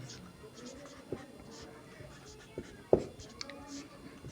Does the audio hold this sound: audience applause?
no